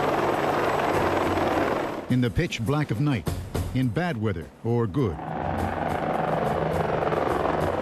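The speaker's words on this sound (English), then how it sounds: "the U.S. Army Apache attack helicopter can destroy anything in its path" A U.S. Army Apache attack helicopter in flight gives a loud, steady rotor roar throughout, while someone narrates over it in the middle before the engine noise carries on alone.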